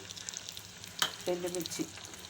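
Onion, garlic and cumin hitting hot oil in a home kitchen, a quiet crackling sizzle with a few soft stirring clanks partway through.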